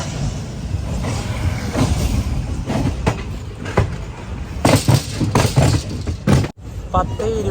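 The Maveli Express rolls into Tirur railway station with a rumbling rattle and sporadic clanks, while people talk nearby over the steady noise.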